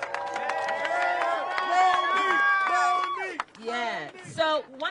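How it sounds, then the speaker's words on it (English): A rally crowd claps and cheers briefly, with a voice singing or speaking over it, then a speaker talking as the applause fades. "Let's give Monique Presley, attorney Monique Presley, a round of applause"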